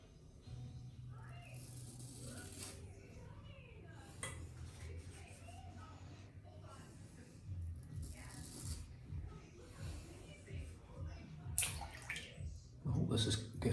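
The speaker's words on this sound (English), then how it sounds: "let's wet the blade again" Water poured over a cutting blade to wet it, heard as splashing and trickling at a sink with clattering and scraping, steady throughout and louder near the end.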